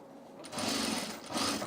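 A sewing machine runs in two short bursts, a close whirring mechanical hum with an odd buzzing tone that rises as the motor starts and surges again near the end.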